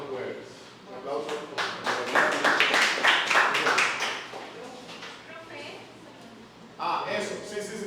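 A class audience claps, a few seconds of scattered hand claps that build and then die down, with people talking underneath and a brief burst of clapping near the end.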